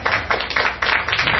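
Audience at a youth Toastmasters event at an international Philippine school applauding in short bursts of clapping, fairly loud and close, several uneven waves with no talk over them.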